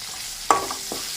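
A soft, steady sizzle of okra sautéing in oil, with a couple of scraping stirs from a utensil in the pan.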